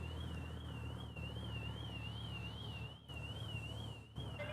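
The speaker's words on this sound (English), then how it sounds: "it's a Mini's car alarm" A Mini car alarm wails in the distance, a warbling rising-and-falling siren tone that repeats steadily over faint background noise with a few brief dips.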